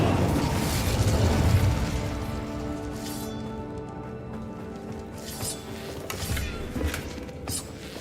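Incendio, a fire spell in Hogwarts Legacy, erupts as a heavy, rumbling blast that fades, followed by a few softer bursts and crackles further on.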